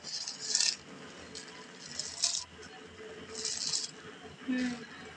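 Pre-washed rice tipped into a pot with a spoonful of oil while making chicken kacchi biryani: a few short scraping, clinking bursts of grains against the metal pot, close and fairly quiet, with pauses between them.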